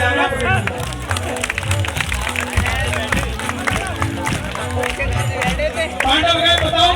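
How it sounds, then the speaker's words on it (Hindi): At a Khatu Shyam jagran in Baheri, an audience claps along in a dense, continuous rhythm, blending with crowd noise and a voice carrying over the top throughout. "ताली बजाना पड़ेगा।"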